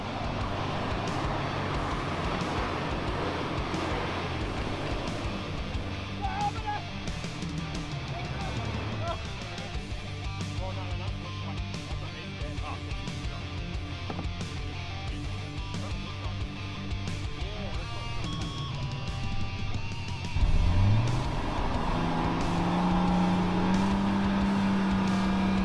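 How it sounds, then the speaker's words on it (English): A vehicle towing a trailer full of rubbish labours through soft beach sand, a continuous close engine drone that strains and rises in pitch toward the end, with some talking around it. "towing a trailer full of rubbish in soft sand sometimes"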